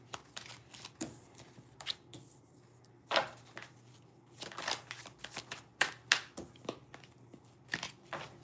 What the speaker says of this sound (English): But I will pull cards for you.